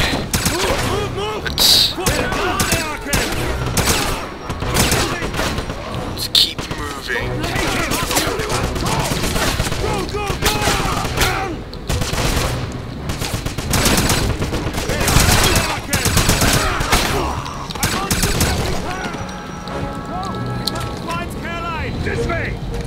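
Rapid gunfire crackles almost nonstop in the Wolfenstein 2009 video game, dense bursts of shots layered with impacts and action noise, while a voice talks over it.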